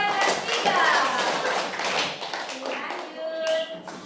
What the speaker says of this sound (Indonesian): Beri tepuk tangan untuk kelompok 2 dan 3